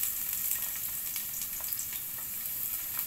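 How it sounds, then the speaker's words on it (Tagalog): Cooking oil heating in a pan for pancit canton, giving a steady close-up sizzle and crackle with small spattering pops throughout. "So, una, nagpa-boil na tayo ng mantika."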